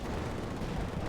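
Continuous dense battle din from Company of Heroes 2, a steady wash of gunfire and rumbling explosions at constant loudness with no distinct single shots standing out.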